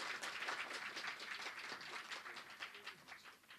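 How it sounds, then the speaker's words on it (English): Audience applause at a medical conference felicitation ceremony, a steady patter of many hands clapping at moderate distance, fairly faint, fading slightly toward the end. "A big round of applause for him."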